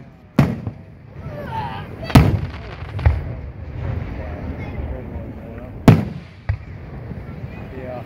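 Fourth of July fireworks explode at a county display in Mason, Michigan: five or so sharp booms at uneven intervals, some louder and nearer, others softer, over a low murmur of voices nearby.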